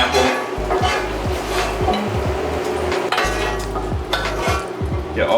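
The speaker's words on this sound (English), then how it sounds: "we're going to go ahead and cook our pineapple" Pineapple cooking in a cast iron pan, a loud sizzle of fruit searing in hot fat, with scraping and clanking of a utensil against the iron as it is stirred and turned.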